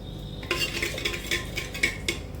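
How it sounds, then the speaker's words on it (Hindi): Whole cumin seeds going into hot oil and ghee in a traditional clay pot, giving a soft steady sizzle with a few clinks of a spoon against the pot, close and alone. "ऑयल अच्छे से गर्म हो चुका है तो अब हम जीरा डाल रहे हैं।"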